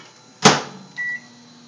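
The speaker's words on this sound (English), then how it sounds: "stick it in the microwave for 30 seconds" A microwave oven being used to heat pre-cooked bacon: a sharp, loud clunk of the door or latch, then a short electronic beep, close by with a quiet hum between and no speech.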